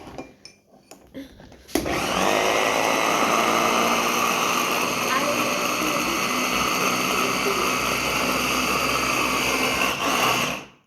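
A blender whirs loudly and steadily as its blades mix thick homemade hazelnut spread, starting abruptly after a few handling knocks, running close and strained for about nine seconds before cutting off.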